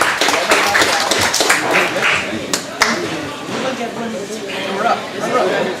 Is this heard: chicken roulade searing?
no